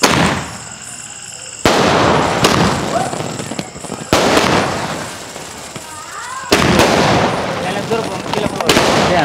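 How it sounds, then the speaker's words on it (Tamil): A 120-shot multicolour firework cake, Sivakasi crackers, fires a loud rapid series of sharp explosive bursts with crackling tails and booming, repeated shot after shot close by. "கிட்டத்தட்ட 120 ஷாட்ஸ் வந்து இதில் வந்து வெடிக்கும்"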